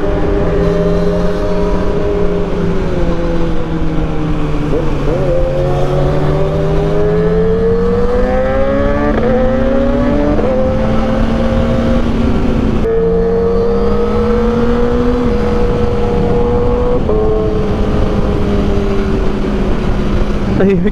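Exhaust of a 2022 Suzuki GSX-S1000 motorcycle on a long ride, a continuous loud engine drone rising and falling in pitch through gear changes, with wind noise throughout.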